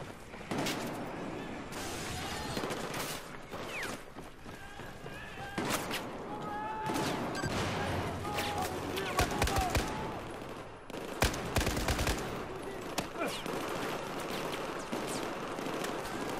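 Gunfire from Battlefield 4 on PC comes in scattered sharp bursts and volleys, some close and some distant. A voice talks over parts of the action.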